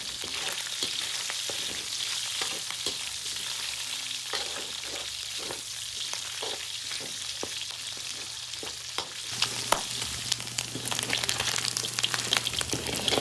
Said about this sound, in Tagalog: Kailangan guys, maprito-prito muna natin itong ating baboy.